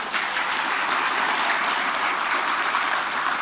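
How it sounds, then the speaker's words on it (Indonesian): An audience claps steadily, a dense, even wash of many hands applauding throughout at a consistent loudness. "tepuk tangan aja kan kelihatan dong nggak meriah"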